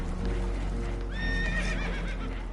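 Spooked horses neigh and whinny in Red Dead Redemption 2 aboard a leaking boat, a loud rising whinny with clip-clop hoof stamping beneath it, close and clear over rumbling background noise.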